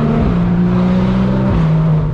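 A Porsche engine drones loud and close, holding a steady low pitch under acceleration with a brief dip and recovery, no voices present.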